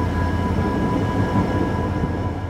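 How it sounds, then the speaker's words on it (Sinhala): At Maho station in Sri Lanka, a passenger train bound for Kankesanthurai arrives with a continuous, heavy rumble and a steady whining hum that stays loud throughout. "එම දුම්රිය පෙරවරු 8:20 පමණ වන විට මහව දුම්රිය ස්ථානයට ළඟා වුණා."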